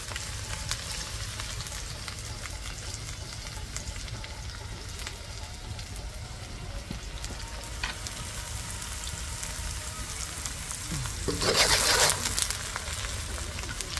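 Onion and garlic frying in hot oil in a pot over a fireside chulha, a steady broadband sizzle running throughout, swelling louder for about a second near the end as more ingredients hit the oil.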